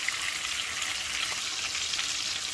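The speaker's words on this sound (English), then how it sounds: "we're going to go ahead and sear all this" Chuck roast sears in a hot pan, giving a dense, even, close sizzle that holds unbroken throughout with no voices.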